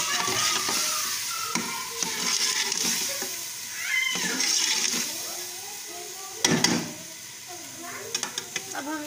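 Potato keema being stirred in a frying pan, with a steady sizzle and intermittent scraping strokes of a spoon, plus a few sharper clinks near the end; a voice briefly sounds in the background.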